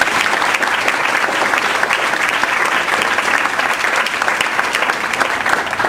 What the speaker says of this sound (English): let's give Jim one more big round of applause